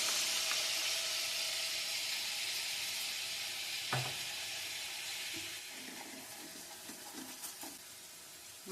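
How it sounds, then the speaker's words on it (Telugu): Ground masala frying in oil for a crab curry makes a continuous close sizzle, with a few clinks and stirring scrapes from the pan and no voices. "మసాలా కూడా కొద్దిగా వేగనిద్దాం"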